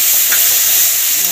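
Ginger and garlic paste fries in a hot pan while being stirred, giving a loud, continuous close-up sizzle with a dense hissing texture.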